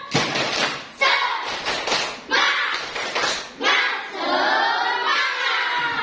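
A primary school class of fifth graders performs a rhythmic clapping chant, bursts of hand claps and thuds in patterned groups mixed with children's chanting voices, loud and close, filling the room.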